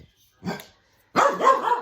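A dog barks twice, close and fairly clear, with a short gap between a brief first bark and a longer, louder second burst.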